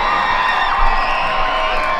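A speedway crowd at Grundy County Speedway's Night of Thrills cheering and whooping during a night event, a loud, continuous mass of voices held steady through the short moment.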